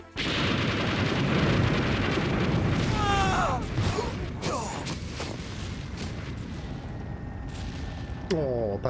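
Tank exploding in the PlayStation classic Metal Gear Solid: a loud, sustained rumbling blast with mechanical clatter and debris. A second crash comes near the end, and the sound continues without pause under game music.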